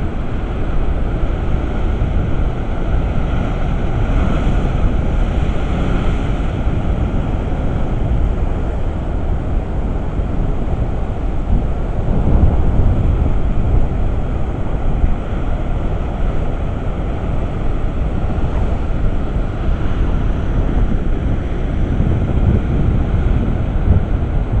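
Rough sea at A Coruña in Galicia, near the aquarium, churns under strong wind, a loud continuous roar of surf and gusts buffeting the microphone with no pauses and no voices.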